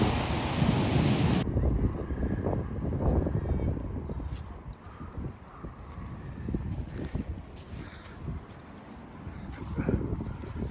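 Sea waves at high tide on the wide sand of Blyth Beach: a continuous wash of surf mixed with gusting wind buffeting the microphone, loud at first, then settling into a softer, steady roar.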